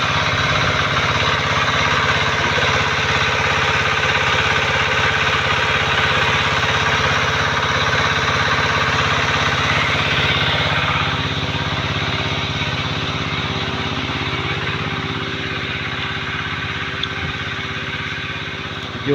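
Two motors run at a stream-side water source for a rice and vegetable farm, giving off a continuous, loud, close mechanical hum with a steady vibrating drone that barely changes from start to finish.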